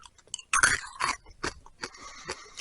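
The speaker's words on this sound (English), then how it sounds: "I think you need to hear the crunch" Crisp, brittle crunching of freeze-dried Skittles candy being chewed with the mouth open, several sharp bursts in quick irregular succession up close.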